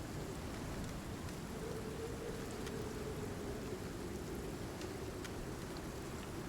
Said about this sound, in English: unfortunately, it's raining